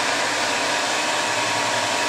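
A Tormach RapidTurn lathe spindle runs with a steady, loud broadband whir that stays constant throughout, alone, without talking.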